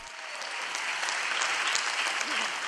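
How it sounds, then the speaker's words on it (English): Applause from an audience breaks into a speech, a steady rain of many clapping hands that builds gently and stays even, heard from some distance with a faint murmur under it. "I have to pause for a moment for the applause because it gives me a chance to breathe."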